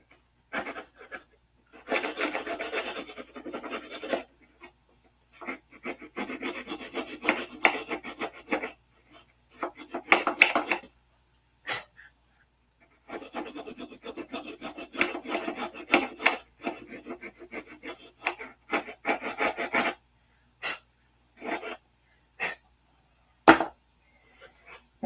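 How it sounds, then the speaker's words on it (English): Wood being sanded by hand, with repeated rasping strokes arriving in bursts separated by short pauses, close and moderately loud, with no talking over it. "We'll give it a little sand here."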